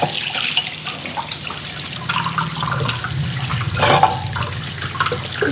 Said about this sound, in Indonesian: Aku cuci tangan dulu aja deh.